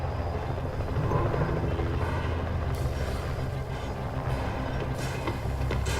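A drone in a video game makes a continuous droning motor whir that holds steady throughout, with a faint hiss and a few brief clicks over it.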